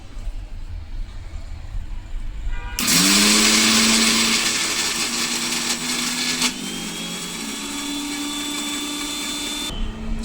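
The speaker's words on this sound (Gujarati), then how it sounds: "હવે આપણે આને પીસી લેશું મિક્સર જારમાં." A mixer grinder in a large jar grinds washed ingredients into a coarse paste without water for handvo: a loud whirring motor starts abruptly, shifts pitch partway through, runs steadily, then cuts off near the end.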